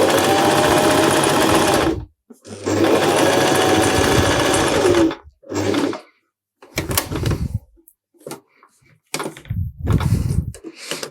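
A sewing machine stitches along the edge of fabric in a sewing lesson, running in two long continuous bursts of rapid mechanical whirring, then short stops and starts, with clicks and handling sounds between.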